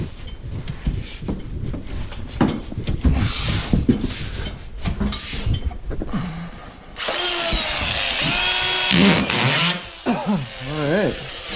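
A power screw gun drives screws into a drywall sheet being hung in a long hallway, with a steady whirring burst running several seconds amid hammering and handling noises, while people talk nearby.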